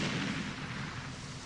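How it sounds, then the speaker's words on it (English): A torpedo fired from an attacker's craft into the back of a jet hopper during a sea battle: a dense, continuous roar of blast and rumble with heavy low-end thunder, loud and sustained without any talking. "The Baroness, scenting battle, fired a torpedo into the back of Shipwreck's jet hopper."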